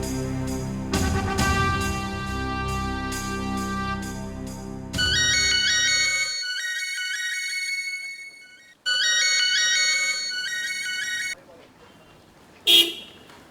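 A mobile phone plays a repeating melodic ringtone while a call goes out, loud and close. It stops briefly and restarts, then cuts off, with a short sharp noise at the end.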